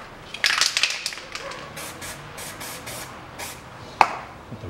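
Copper grease sprayed onto bolts during rear gearbox seal work on a CFMOTO CF500A ATV, heard as several short hissing spray bursts close by, with a sharp tap near the end.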